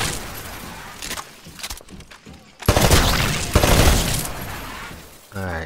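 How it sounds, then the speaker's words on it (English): Bursts of rapid gunfire hit targets on a video game shooting range. The shots come in loud, dense volleys, separated by quieter gaps and a short silence, with sharp impacts. "Destroy all of the targets in the shooting range."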